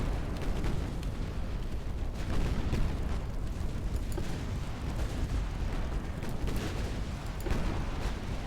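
A torpedo strikes the warship Latona in Ultimate Admiral Dreadnoughts, a British 1900 naval battle, heard as a dense rumbling blast amid steady booming gunfire and explosions, fairly muted and continuous.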